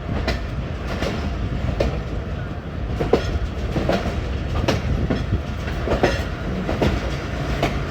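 Aboard the Jaffar Express at Gujar Khan station on a foggy winter day, train wheels drum a close, continuous clickety-clack with regular sharper knocks over rail joints, the rumble staying even and loud from start to finish.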